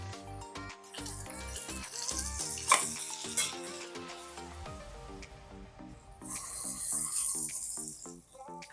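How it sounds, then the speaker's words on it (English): Pork searing in a non-stick pan, seasoned with black pepper and salt, gives a steady sizzle with stirring and scraping clatter as it is turned, under melodic background music. "Look at that, perfectly seared, and it's not sticking on the bottom of the pan or the pot"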